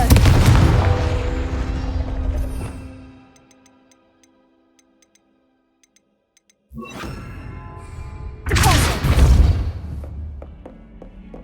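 The Confringo blasting curse in Hogwarts Legacy sets off loud, booming explosions, one at the start that fades into near silence with faint ticks, then two more heavy blasts later.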